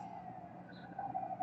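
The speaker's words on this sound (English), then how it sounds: "That's fire trucks." Faint, distant fire truck sirens wail steadily under a low background rumble, rising slightly louder toward the end.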